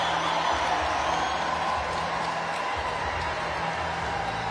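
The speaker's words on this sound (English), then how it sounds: "Listen to the crowd roar." A rally crowd in St. Cloud, Minnesota sends up a broad, sustained roar of cheering and clapping, a dense, distant wash of noise with no clear pauses.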